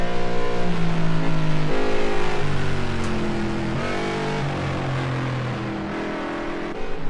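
A GT3 race car at Snetterton powers through a lap, its engine loud and close, climbing and dropping through gear changes as it revs and accelerates past.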